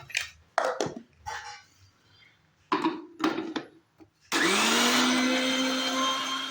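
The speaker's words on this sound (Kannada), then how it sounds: "ಅಕ್ಕಿ ಇವಾಗ ರುಬ್ಕೊತಾ ಇದೀವಿ ನೋಡ್ರಿ" Soaked rice being ground into smooth dosa batter in an electric wet grinder, a loud steady whirring drone that starts abruptly midway and runs on continuously after some earlier brief clatter and handling noises.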